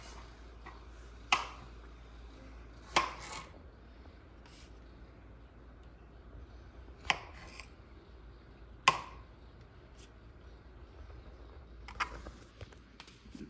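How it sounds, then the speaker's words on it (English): A knife slicing fresh tomatoes in half on a cutting board gives a few sharp, isolated clicks and thuds spaced several seconds apart, close and faint over quiet room tone, with no talking. "But now first, we will have to cut the fresh tomato in half."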